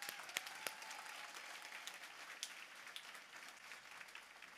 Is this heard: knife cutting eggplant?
no